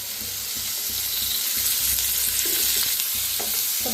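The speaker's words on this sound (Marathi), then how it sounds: "आता हलकासा भाजायला लागलाय, ह्याच्यात थोडंसं तेल वतून फ्राय करून घेऊया।" Egg masala fries in oil in a pan with a steady, close sizzle, punctuated by scraping stirs; no one speaks.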